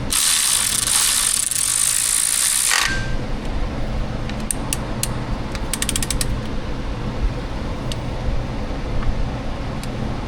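Timing belt tensioner on a Toyota 4.7 engine clicking as it is worked, a loud mechanical ratcheting rasp for about three seconds followed by quieter scattered clicks and creaks, close up.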